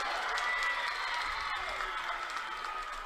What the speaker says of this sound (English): Is that the Beaver crowd down there cheering?